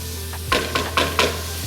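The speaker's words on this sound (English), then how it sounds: "we're going to sweat the vegetables, get them nice and soft" Garlic, onions, carrots and celery sweating in a pan give a soft background sizzle broken by four quick, evenly spaced stirring scrapes close by.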